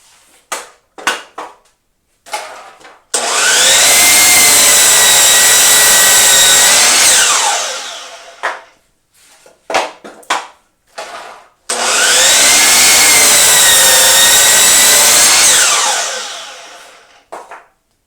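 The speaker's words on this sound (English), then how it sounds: "right now I'm just going to make a couple of cuts. They're called miter cuts." A power miter saw makes two miter cuts in wood. Each cut is a long, loud, steady motor whine lasting about four seconds and then spinning down, with brief knocks and handling noises before and between the cuts.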